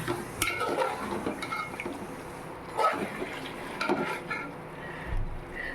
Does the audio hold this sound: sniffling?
no